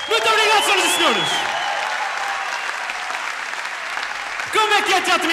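Theatre audience applauding a stand-up comedian, loud sustained clapping from a large crowd with a speaker's voice over it at the start and again near the end.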